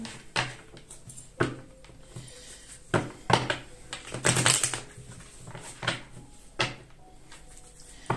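A deck of tarot cards is cut and shuffled by hand in a series of sharp, riffling bursts and taps spaced a second or so apart, close and fairly quiet.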